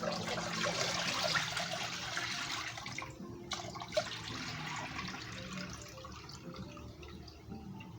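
Dirty water from cleaning cut-up chicken pours out in a rushing, splashing stream that tapers off into trickles and drips, close by with no voices.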